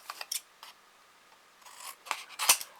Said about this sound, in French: Donc je coupe tous mes coins grossièrement, voilà.